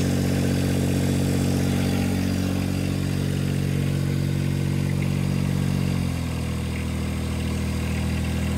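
A John Deere 1025R compact tractor idles while warming up, a loud steady diesel chug that drops to a lower, rougher pitch near the end, close and alone.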